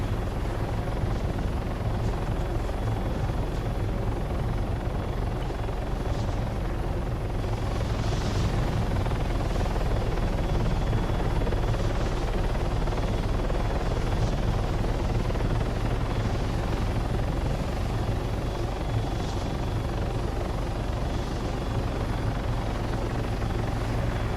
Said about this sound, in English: We gotta get this chopper out of here.